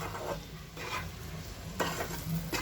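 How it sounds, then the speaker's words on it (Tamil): Egg masala sizzling in a pan, a steady close fry with a few distinct scraping stirs cutting through the hiss. "மசாலா நல்லா ஃப்ரை ஆகிடுச்சு"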